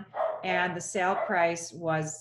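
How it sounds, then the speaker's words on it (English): A small dog barks several times indoors, sharp yappy barks in quick succession while a person talks over them. "If you hear barking, that's my little dog, and he sees a dog outside"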